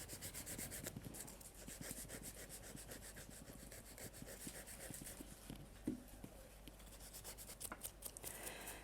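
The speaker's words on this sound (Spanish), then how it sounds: "Vamos a darle forma a la uña con nuestra lima 180." A 180-grit nail file shapes a fingernail during a manicure, giving steady, quick back-and-forth rasping strokes that run continuously and softly at close range.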